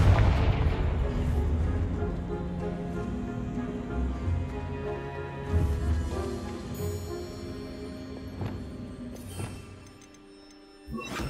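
A Confringo explosive spell goes off in Hogwarts Legacy, a series of loud booming blasts over a dense, steady bed of game music and ambience, with sharper bursts around the middle and near the end.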